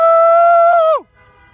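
A single loud, sustained car horn blast rings out for about a second at an outdoor political rally, then cuts off, leaving faint background noise.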